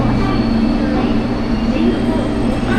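A train in Nagasaki, Japan, gives a steady, loud rumble of wheels and motor throughout, with a person talking over it close by.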